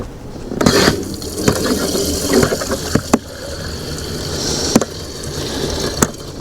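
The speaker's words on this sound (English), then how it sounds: "Let's just try to get some fuel in there, just to get some fuel to the carburetor." Gasoline pours unevenly into a snow blower's fuel tank, a steady close splashing trickle broken by sharp clinks and knocks from the can and tank.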